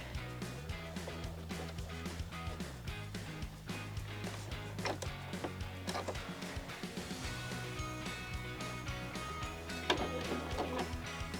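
A sewing machine stitches the last seam of a quilt block, a quiet mechanical whirring with rapid ticking and shifting motor tones, running continuously at close range.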